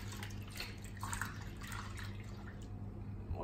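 Goalkeeper gloves squished around in soapy washing-up water, soft repeated sloshing and dripping splashes, close and quiet, without talk.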